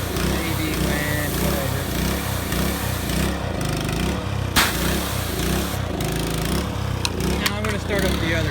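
A pressure washer's small gasoline engine that runs poorly, rattling and chugging loudly and continuously nearby, with a few sharp knocks on top.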